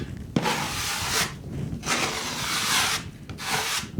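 A scraper drags across wet patching compound ridges on a ceiling, giving repeated rough rasping strokes in a steady rhythm, close and moderately loud, with a small tap at the start and no talk.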